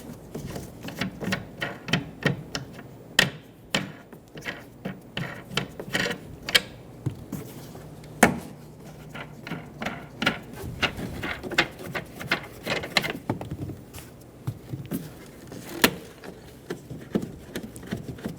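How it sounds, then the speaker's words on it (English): Plastic clips on the back of a 2000-2007 Ford Focus taillight being unscrewed by hand, a close run of irregular sharp clicks and small ticks with brief gaps, no talking. "Unscrew the 3 clips on the back of the taillight."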